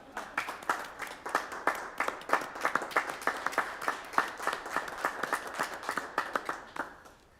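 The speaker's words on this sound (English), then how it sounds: "I think we should give her a standing ovation, honestly" Standing ovation for a city secretary at a Texas city council meeting: steady, moderately close clapping from a modest crowd, rhythmic and sustained before tapering off.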